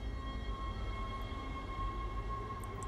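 A tram in the Dead Space video game runs with a steady low rumble and a faint mechanical hum throughout, quiet and unbroken, with no talk.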